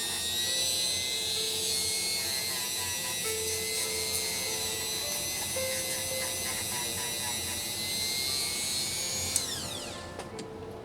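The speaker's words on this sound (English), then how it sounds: "Going to take your Dremel on the edge a little bit, and it creates even more of a cutting action" A Dremel rotary tool whines at high speed while cleaning a pin on a Singer sewing machine, a steady loud buzz with small pitch shifts that spins down near the end, no voices.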